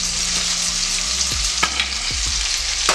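Pork chops sizzling and browning in a pan with teriyaki sauce, a steady bright frying hiss with occasional clinks and scraping of a utensil stirring, close and without speech.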